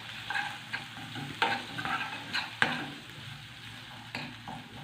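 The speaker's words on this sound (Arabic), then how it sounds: "قلبوا التوابل دي كده علشان الزيوت العطريه" Whole spices such as dried black lime, cinnamon and bay leaves are stirred in hot oil in a pan, sizzling steadily with repeated scraping strokes close by.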